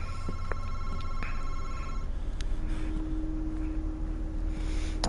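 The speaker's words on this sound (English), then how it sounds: "Oh, the phones are ringing." A telephone rings in the horror game Madison, a steady electronic ring over a dense, constant background of game ambience, fairly loud throughout with no talking.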